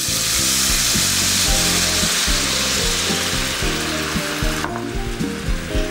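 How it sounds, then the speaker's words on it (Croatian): White wine hits a loud, sizzling pan of roasted chestnuts and garlic, setting off a steady, intense frying hiss with rhythmic scraping clicks beneath it, easing slightly near the end. "čim češnjak zamiriše, podlijemo sve zajedno bijelim vinom."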